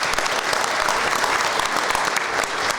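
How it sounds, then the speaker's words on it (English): An audience at an evening Golden Apple awards ceremony gives a round of applause for the winners, a steady, dense clapping of many hands filling the room. "how about a nice round of applause for all the Golden Apple winners recognized here this evening."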